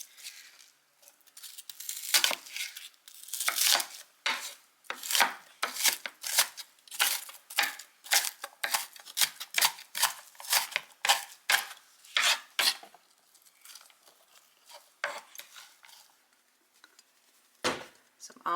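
Knife chopping onions on a cutting board for corn chowder, a steady run of sharp, close taps with brief pauses, loud and alone without talk.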